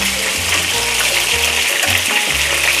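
Stuffed chicken breast rolls with vegetables fry in a pan, a steady bright sizzle running throughout with low bumping and shifting noises beneath, no talking.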